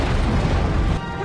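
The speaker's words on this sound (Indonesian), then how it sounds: "menembaki gas di sana, sehingga membuat pondok itu meledak dan hancur" Gas explodes and destroys a hut in an action film, a loud, dense roaring blast that holds steady for about a second, then drops away abruptly.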